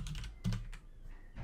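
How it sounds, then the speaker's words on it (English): Typing on a computer keyboard during a livestream about building a constructed language, a quick run of soft close key clicks with one louder burst. "Sorry, I'm typing it right now."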